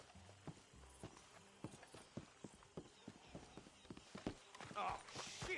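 Horses in the Red Dead Redemption 2 video game clip-clop at a steady walking rhythm, close and moderately loud, with faint voices and ambient game sounds in the background.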